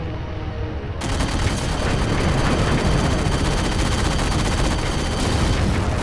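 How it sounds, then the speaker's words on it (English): Sustained rapid gunfire from a weapon in the Halo 4 video game, a loud dense barrage that bursts in after a second of quieter ambience and continues without pause. "Oh god, this gun feels sluggish"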